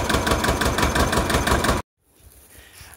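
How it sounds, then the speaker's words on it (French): A tractor engine idles loudly with a steady, rumbling throb for nearly two seconds, then cuts off abruptly, leaving only faint low background noise near a small trailer used for beehives. "Ah bah il finit en tracteur Arpelli."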